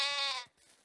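A sheep in the medieval survival game Medieval Dynasty lets out a single loud, quavering bleat for about half a second, close and clear, followed by faint background ambience.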